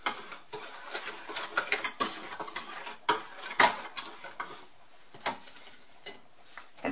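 A spoon stirs a mixture in a bowl for a gyros roast, making close, irregular scraping and clinking strokes against the bowl's sides, moderately loud with no talking.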